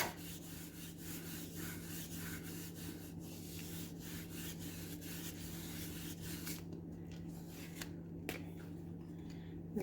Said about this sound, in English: I'm going to use the sandpaper, just go over it again because I kind of lost some of that texture.